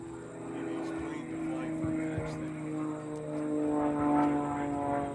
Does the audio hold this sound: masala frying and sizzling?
no